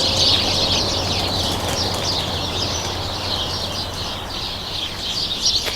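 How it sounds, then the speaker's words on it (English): Sparrows chirping in trees at Rainham Marshes RSPB reserve, a dense continuous chatter of many birds over steady outdoor background noise, moderately close. "Here the old sparrows in the trees."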